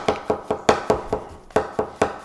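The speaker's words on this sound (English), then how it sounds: "something as small as a mushroom, again, and you can see that chopping motion really lends its hand." A Chinese cleaver chops a mushroom on a cutting board in a steady rhythm of about ten crisp, close knocks with one brief pause, no voices.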